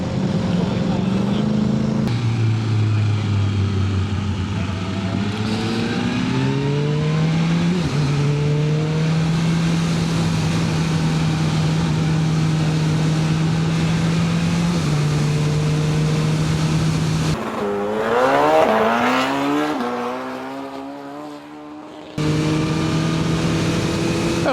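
A BMW M 1000 R Competition motorcycle of 200-plus horsepower is ridden, its engine droning and rising through the gears with sustained tones, wind rush swelling near the end, a sudden roar of revs, then steady running again.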